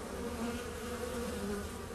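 Honeybees buzz steadily at a beehive entrance by the landing board, a dense, continuous hum of many insects close by with no voices.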